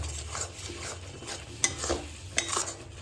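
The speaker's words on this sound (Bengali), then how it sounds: "এবার সমস্ত কিছু আমি একটু ভালো করে মেশাবো এবং কষাবো" Dried fish (shutki) is stirred and fried in a pot, with a soft continuous sizzle under repeated scraping stir strokes. A couple of sharper utensil clinks stand out, and no one speaks.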